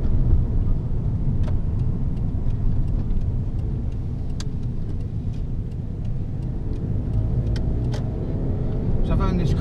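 Toyota RAV4 2WD car with manual clutch and power steering driving around a block, steady engine and road rumble heard from inside the cabin, with someone talking over it.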